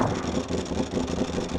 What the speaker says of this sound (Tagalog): Bastos na bastos yung tunog ng dry clutch